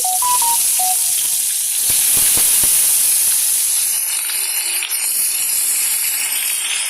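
Eggplant slices frying in hot oil in a kadai, a steady loud hiss and sizzle that swells as the pieces go in, with a few soft knocks near the start and no talking.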